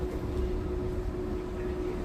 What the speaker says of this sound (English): The train winds its way gracefully through the modern cityscape, gliding between sleek skyscrapers and futuristic buildings.